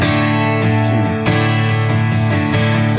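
A guitar strummed close and loud in a steady rhythmic pattern, with several sharply accented strokes standing out against the lighter strums between them.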